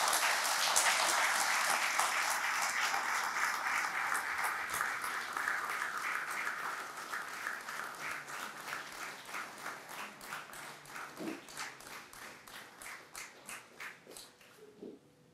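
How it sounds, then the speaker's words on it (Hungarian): Audience applause fills an award ceremony, a sustained round of clapping that starts strong and gradually thins out, turning into scattered claps before it stops. "Azt hiszem, a taps önmagáért beszélt"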